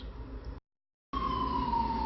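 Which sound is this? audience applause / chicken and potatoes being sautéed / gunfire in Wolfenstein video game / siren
siren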